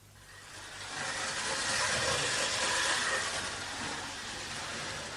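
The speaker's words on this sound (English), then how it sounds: "These trains really are beautiful" A train runs in a radio drama sound effect, a broad hissing rush of steam and rolling rumble that swells louder after the first second and stays steady, with no talk over it.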